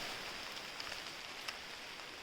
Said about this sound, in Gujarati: રસ્તામાં જ વરસાદ આવી ગયો છે